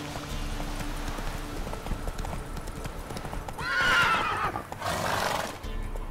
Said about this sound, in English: That's it, Roach